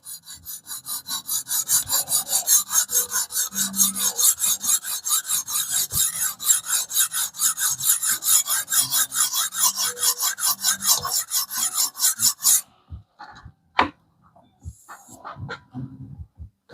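A file rasps across a metal blade during sharpening in rapid, even back-and-forth strokes, a close, harsh scraping rhythm that runs steadily for about twelve seconds and then stops, leaving a few faint knocks.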